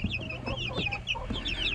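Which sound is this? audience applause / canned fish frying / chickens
chickens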